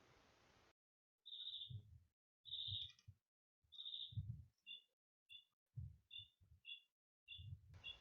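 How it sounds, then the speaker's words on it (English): Birds chirp in short repeated bursts in the background of a tabletop game session, bright tweets alternating with soft low thumps, fairly faint and with no talking over them. "I hear birds chirping."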